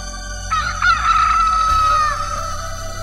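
A cartoon chicken squawks in a loud, drawn-out, sustained call, heard close and alone, with no talk over it.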